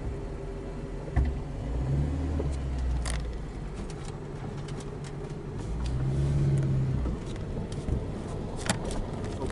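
A 1988 Ford Laser without power steering drives along, its mid-pitched engine hum and road rumble steady and close throughout, with a few light rattles and clicks inside the cabin.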